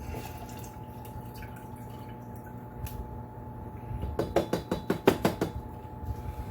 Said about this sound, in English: take the rest of our chicken stock and just pour it into a pan like this